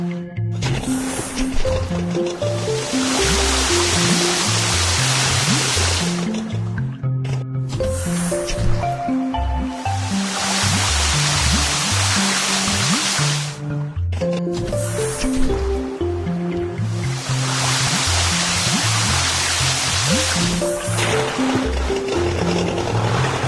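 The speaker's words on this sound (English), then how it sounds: "Let's pump the water out of the hole." A pump draws water out of a hole in a broken ship's hull. Wet gurgling and sloshing surges come in three long rounds, each separated by a brief pause.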